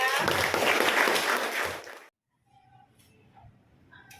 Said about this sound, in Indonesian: Oke, tepuk tangan untuk Faidira.